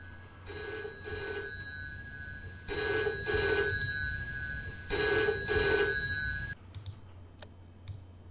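A video game telephone rings in three double-burst trills, each pair of electronic bell rings separated by a pause, fairly quiet over a low hum, followed by faint clicks.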